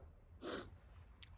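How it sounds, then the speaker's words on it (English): One sharp, close sneeze from someone with hay fever bursts out loudly and briefly, followed by a faint breathy sound in an otherwise quiet space. "I'm going to sneeze because they're hay fever"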